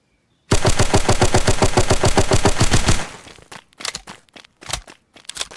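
Automatic gunfire in the video game Roblox Fallen Survival rattles in one loud, rapid, sustained burst of about two and a half seconds, followed by a few scattered clicks and clatters.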